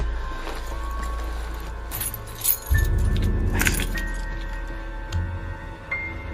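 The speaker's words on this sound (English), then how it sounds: "Why don't you give me your car keys?" A bunch of car keys jangles and clinks in a quick handover, metallic rattles clustered mid-clip over a low idling car rumble, close and distinct, without talk.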